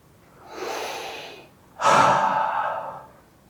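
Two long, deliberate breaths are drawn close to the microphone, a slow inhale and then a stronger, airy exhale, steady and controlled, as in a meditation exercise.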